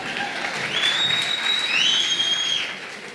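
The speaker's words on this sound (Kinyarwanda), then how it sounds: "Amashyi kwa Ramjaane." An audience claps and cheers for the comedian Ramjaane at a live stage comedy show, steady applause with whistles swelling through the middle and easing slightly at the end, loud and alone without talk.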